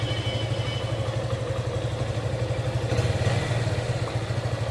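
2024 Suzuki Gixxer 155 motorcycle engine running close by, a steady low pulsing thump with even rhythm and light mechanical clatter, no voices over it.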